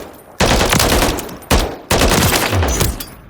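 Close, loud bursts of rapid G36K A4 assault rifle fire in Call of Duty Modern Warfare III, three sustained strings of automatic shots separated by brief pauses, with no voices.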